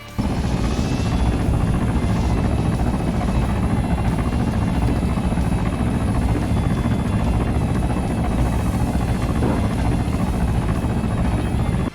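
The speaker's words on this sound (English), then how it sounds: "I originally was going to use a helicopter to have a cool swooping in landing" A helicopter in the video game Arma 3 flies with a loud, continuous rotor thrum and engine whine, steady and close throughout with no talking.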